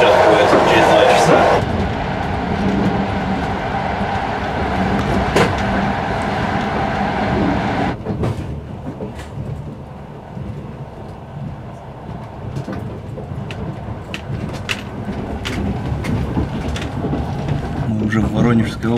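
Passenger train No. 360 running on the line from Sochi to Kaliningrad, a steady rumbling roll of wheels and carriage with a rhythmic low clatter, loud and continuous throughout, joined by a person talking over it.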